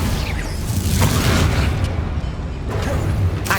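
Confringo fire spell cast in the video game Hogwarts Legacy, a dense booming blast with a crackling explosive rush that sustains loudly across the whole moment amid other combat noise.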